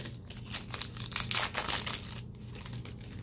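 A basketball trading card pack is torn open close up, giving soft crinkling foil and tearing wrapper sounds in a short, quiet, continuous stretch with no talk.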